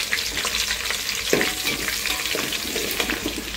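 Onions frying in oil in a pan for biryani, a close, steady crackling sizzle with scattered pops and spoon stirring throughout.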